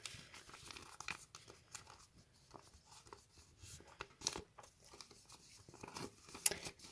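Paper being folded for origami gives soft, close crinkles and quick creasing scrapes in irregular bursts, faint and without talk.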